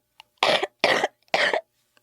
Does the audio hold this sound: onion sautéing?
no